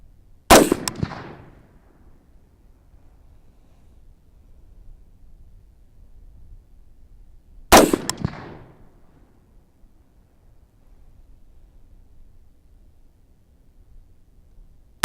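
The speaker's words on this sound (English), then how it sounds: "I'm going to go ahead and shoot at the left one and do 3 or 5 shots and see how they light up" Two sharp, loud gunshots fired at Shoot-N-See targets 50 yards away, several seconds apart, each followed by a short fading echo in an otherwise quiet outdoor setting.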